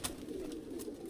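Young pigeon chicks, very small squabs just learning to feed, coo softly in a pen, a faint low murmuring that runs steadily beside a couple of brief higher chirps.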